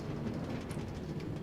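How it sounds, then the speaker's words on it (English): Minecart rolling along rails in Minecraft, a steady low rumbling clatter that holds evenly throughout with no talk. "I'm going to take the train back here. Minecart, I guess."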